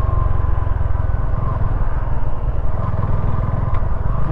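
A motorcycle engine running steadily and close on a rural ride in Nueva Vizcaya, a continuous low rumble with rattling, no voices.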